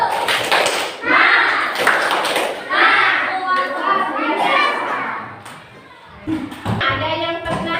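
Classroom children perform a rhythmic 'tepuk semangat' clap chant, voices chanting together with patterned hand claps in bursts, loud and close, with pauses between phrases.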